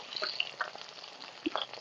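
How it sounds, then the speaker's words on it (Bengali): Rohu fish pieces frying in hot oil, giving a quiet, scattered crackle and sizzle with small pops and spits, a soft low bubbling in the background, no voices. "মাছগুলোকে ভালো করে ভেজে নেব এখন মাছগুলো লালচে ভাবে ভাজা হয়ে গেছে"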